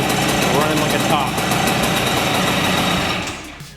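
A vintage CT175 enduro motorcycle with a freshly tuned oil pump and a 12V electrical conversion runs close by, its engine buzzing steadily. Near the end the buzz fades to a lower idle.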